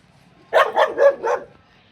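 A dog lets out four quick, close barks in a steady rhythm, loud and clear against a quiet background.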